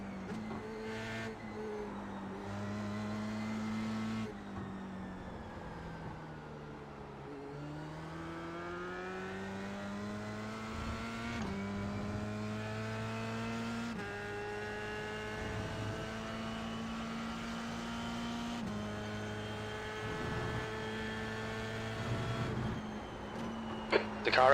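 GT3 race car engines in the iRacing video game rev up and shift through gears in repeated rising sweeps, steady and fairly close, with brief lifts between pulls.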